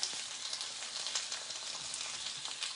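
Bacon-wrapped stuffed jalapeño chaffle sizzling and frying in a non-stick pan, a steady, dense crackle with light popping that holds close and even throughout, no voices over it.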